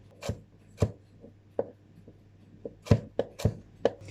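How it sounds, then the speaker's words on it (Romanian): A knife slices garlic into thin slices on a cutting board, giving about ten crisp, separate taps at an uneven pace, close and clear, with no talking. "Tăiem usturoiul în feliuțe."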